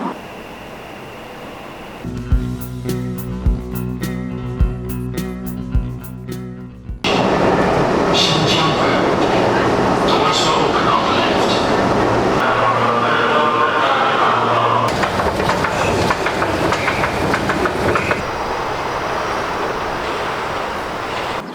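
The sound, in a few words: metro train riding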